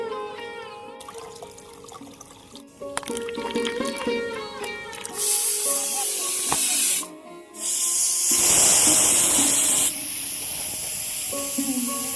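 A pressure cooker cooking beef leg lets off long, loud, steamy hissing whistles: two sustained blasts in the second half, broken by a short pause, after quieter clattering and tonal kitchen sounds.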